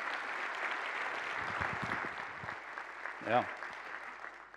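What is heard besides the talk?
conference audience applause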